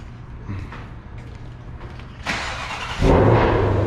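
A 2021 Shelby GT500 cold start: the engine cranks and catches, rising into a loud roar near the end after a few seconds of quiet rustling.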